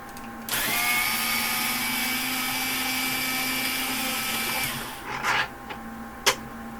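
A powered screwdriver or drill whirs steadily for about four seconds while backing out long case screws from old lab equipment, then stops; a few brief clicks and rattles follow as it is set down.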